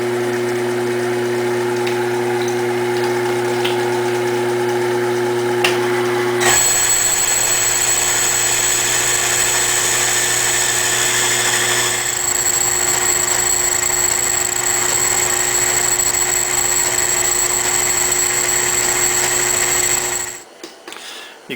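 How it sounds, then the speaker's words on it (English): A Sherline lathe turns solid aluminum under power feed, past the knurled section, giving a steady close motor whine and cutting hum with a bright high tone that rises partway through and stops near the end. "You can see now we're through the knurling and into the solid aluminum."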